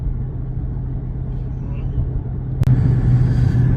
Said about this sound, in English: Out on the open highway now in the Plum Crazy 392 Super B wide body Charger 2023.